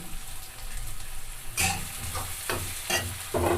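Mustard greens being stirred and fried in a pan with asafoetida, a soft steady sizzle running throughout, with several sharper scraping stirs toward the end.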